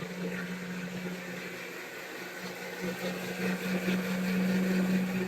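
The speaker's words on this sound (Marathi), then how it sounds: "आता मी मिक्सर मसाला वाटते" A kitchen mixer grinder grinds spice paste for Konkani crab curry, a steady motorized whirring with a constant low hum throughout, growing slightly louder toward the end.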